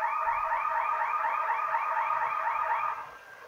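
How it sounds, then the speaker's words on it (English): A quiz buzzer signalling a correct answer sounds as a loud, rapidly pulsing electronic tone lasting about three seconds before cutting off, heard alone. "the buzzer told you that you're correct"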